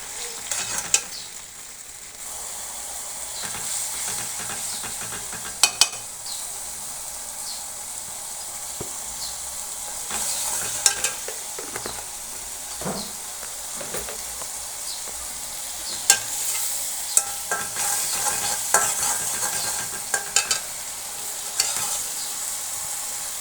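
Spices going one after another into a small-fish sour curry cooking in a pan, a long steady sizzle close up with scattered clinks and scrapes from the spoon.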